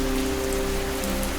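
Steady rain pattering on a surface, dense and constant, with a low hum underneath and no voices.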